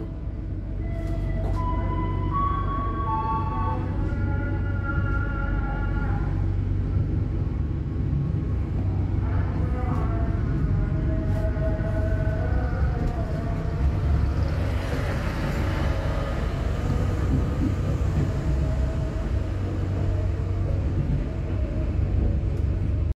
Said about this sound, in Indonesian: kereta api Joglo Semarkerto diberangkatkan kembali dari stasiun Tegal menuju ke Solo Balapan via Semarang, Tawang, dan Jateng